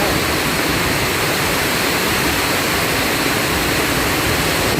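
Heavy rain pours down in a dense, unbroken roar, loud and constant, filling the whole stretch without pause at an outdoor village festival.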